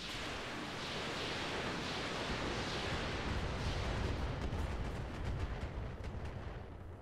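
Missile impacts pound a mech in the video game Roguetech, a BattleTech mod: a dense, continuous roar of explosions that swells and rumbles steadily, loud and close, with no talk over it.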